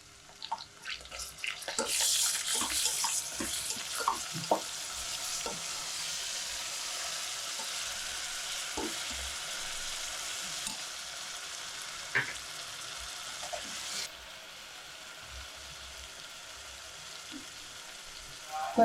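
Rice fries with ginger and garlic in a pan for tomato rice, a steady soft sizzle with scattered stirring clicks and scrapes, louder at first and quieter later.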